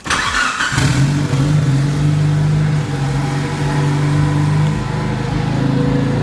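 A Mitsubishi Evo 8 engine cranks and fires up, then settles into a loud, steady idle close by with a deep, continuous rumble that holds throughout.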